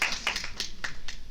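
Audience at a JavaScript and AI tech talk clapping, a short burst of a few scattered, moderately close handclaps.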